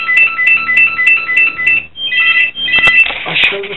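A telephone rings indoors during a Lego fire station build, sounding in a series of bright repeated electronic trills that break briefly and then resume, loud and close, with clattering handling noise toward the end.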